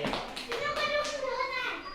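Classroom children clapping for a classmate, a quick burst of a few hand claps near the start followed by a voice speaking.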